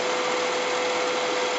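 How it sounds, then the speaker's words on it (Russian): A car engine idles steadily after the vehicle's first time out of the garage in months, a continuous loud, even hum with a faint whine, nearby and alone. "Вот так моторчик работает."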